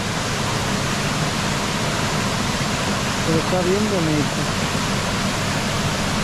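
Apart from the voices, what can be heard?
stream flowing, muddy from rain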